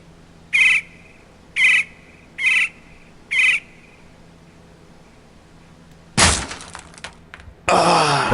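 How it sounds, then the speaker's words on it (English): Boards being smashed apart in a Payday 2 game sound file: four quick, evenly spaced chirps first, then two loud, harsh cracking and splintering bursts close together near the end. "Breaking up boards."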